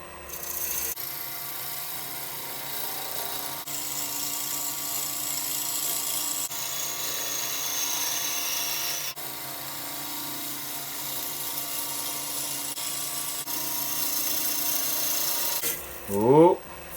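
A continuous scraping, hissing cut of a lathe gouge against a spinning birch bowl, steady and close, with a brief squeal near the end.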